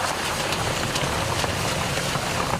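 Steady summer-storm rain pours down in Calgary, a dense continuous hiss of drops striking surfaces, loud and unbroken, with a faint low engine-like rumble beneath it.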